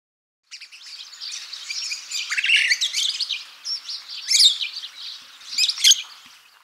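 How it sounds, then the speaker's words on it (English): Lovebird calling alone in a quiet setting, a run of shrill, high chirps and squeaky chattering notes with a few sharper peaks, clear and fairly close. "Lovebird."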